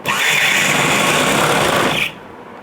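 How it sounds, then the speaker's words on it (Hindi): Sewing machine stitching a sofa cover, a loud, fast, continuous whirring run of stitches that stops abruptly near the end, leaving a quieter hum. "इसमें पूरे में हम सिलाई लगा देंगे"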